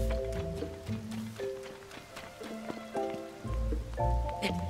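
Rain in The Legend of Zelda: Tears of the Kingdom, a soft steady patter of drops on surfaces under game music, with faint footsteps and no speech.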